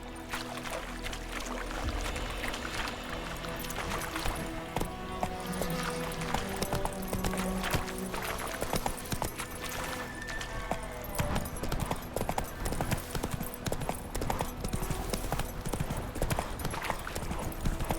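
Horse Roach gallops in The Witcher 3, a steady rapid clip-clop of hooves running continuously throughout, close and fairly loud with no talk over it.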